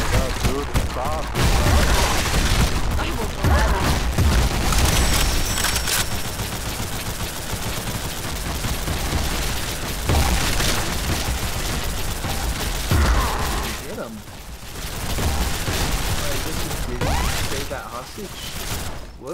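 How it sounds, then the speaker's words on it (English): Rapid bursts of gunfire in a video game crackle and rattle almost continuously, loud and close, with people talking over the shooting and a brief lull before it resumes. "I think we accidentally shot the hostage."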